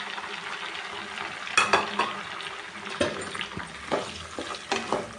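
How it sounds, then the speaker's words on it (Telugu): Tomatoes, onion and green chillies fry in oil for an Andhra-style fish curry, a soft continuous sizzle broken by several sharp scrapes and stirs of a spoon against the pan. "వీటిని కూడా వేయించుకున్నాను ఇవి టమాటా పచ్చిమిర్చి ఇవి మగ్గినాయి"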